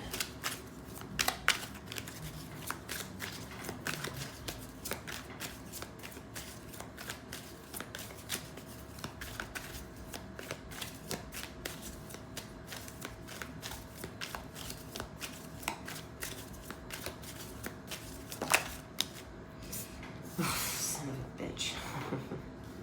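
Tarot cards being shuffled by hand, a steady run of soft riffling and flicking strokes that continues throughout, moderately close with a few sharper snaps near the end.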